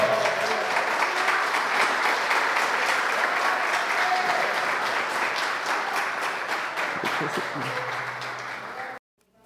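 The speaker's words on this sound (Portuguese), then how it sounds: "Em nome de Jesus, aplauda o Senhor." A church congregation at a Portuguese-language service applauds the Lord in a dense, steady roar of clapping that holds for about nine seconds and then cuts off abruptly.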